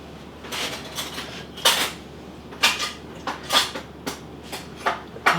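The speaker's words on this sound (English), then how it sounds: "We are now going to put that into our ramekins." Light, fluffy lemon soufflé mixture being spooned into ramekins with a big spoon, heard as a series of soft clinks and taps of spoon against dishes at an irregular pace, close by and fairly quiet.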